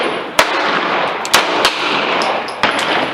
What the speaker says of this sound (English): Here I'm going to start shooting single action